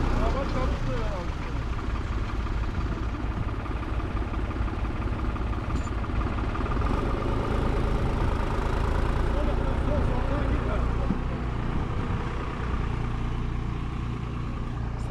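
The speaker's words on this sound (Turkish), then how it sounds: "Traktör geldi. Belediye traktör yolladı bize." A municipal tractor engine tows a stuck car that is tied on by a swing's metal bar, a steady low diesel drone with clattering, continuous and close, while people talk nearby.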